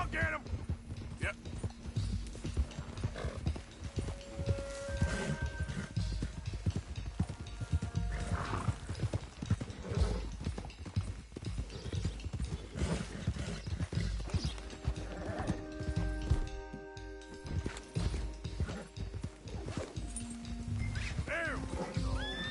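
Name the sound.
stallion galloping and neighing in video game Red Dead Redemption 2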